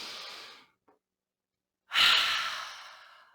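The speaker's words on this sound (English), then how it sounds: "Breathe nice and deep." Deep, close breathing during a moderate standing cardio routine for cardiac rehabilitation: one long exhale fades out, silence follows, then a second strong, airy breath trails off slowly.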